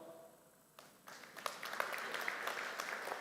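Keynote audience at a conference breaking into applause, a dense wash of many hands clapping that swells after a quiet start and holds steady, fairly loud in a large hall.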